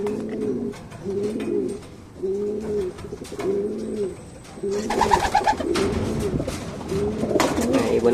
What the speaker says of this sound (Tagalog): Ibon natin mga kalapatids.